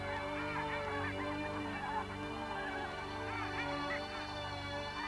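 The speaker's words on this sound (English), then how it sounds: "begins filming the arrival of the snows" Snow geese arriving in spring, a dense chorus of honking calls that overlap continuously at a moderate distance, fairly faint overall.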